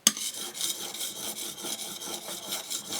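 Rhythmic scraping of metal rubbed back and forth on a super-fine diamond sharpening plate, a repeated rasping stroke, close and moderately quiet.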